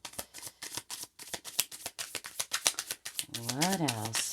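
Tarot cards shuffled by hand: a rapid run of crisp riffling flicks in quick bursts, close and fairly loud, with a brief tonal voice-like sweep near the end.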